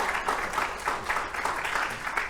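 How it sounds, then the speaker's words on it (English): A small audience claps softly at a church-style conversation event on race and the Kingdom of God, a steady, quiet patter of hands lasting a couple of seconds with no voices over it. "You can clap."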